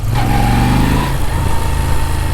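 A Moto Guzzi V7 III motorcycle engine rumbles steadily and loudly up close, a low, continuous ticking throb with a faint whine riding above it.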